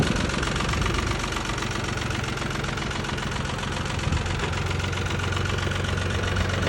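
A Jinma 40 small tractor's engine idles steadily nearby, a continuous low rumble with a faint knocking pulse running through it, alone with no talk.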